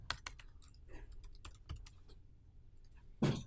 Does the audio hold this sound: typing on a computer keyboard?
yes